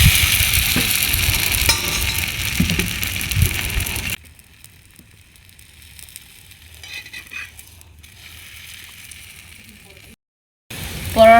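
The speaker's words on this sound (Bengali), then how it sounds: "তাওয়াটা গরম হয়ে গেছে, আমি এবারে পরোটাটা আমি দিয়ে দিলাম।" Naan paratha cooking on a hot tawa gives a soft, steady sizzle for the first few seconds, then fades to a quiet crackle with brief pauses and a short renewed burst at the end.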